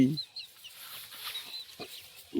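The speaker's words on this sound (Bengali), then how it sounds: "কটা মুরগি" Chickens on a rural homestead in the Sundarbans give faint, scattered clucks, a few brief calls spread over a quiet outdoor background.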